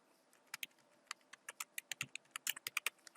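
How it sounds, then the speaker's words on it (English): Search terms being typed on a computer keyboard, a close, quick run of crisp key clicks in an uneven rhythm, with no voice. "Then I'm going to type in my search terms."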